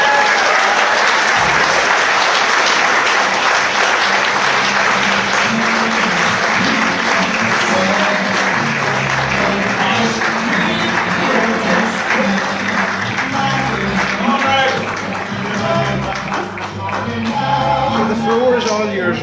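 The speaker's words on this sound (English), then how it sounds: "Give her a big clap." Loud, sustained applause from a ballroom audience at a 25th anniversary ball, honouring an award winner; steady dense clapping throughout with a slight dip near the end.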